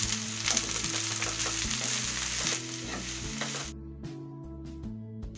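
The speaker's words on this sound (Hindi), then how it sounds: "जब प्याज इस तरीके से पक जाए तो इसमें डाल देना है पत्ता गोभी।" Cabbage tipped into a pan of cooked onions, frying with a loud steady sizzle and intermittent stirring scrapes, the hiss dropping off toward the end.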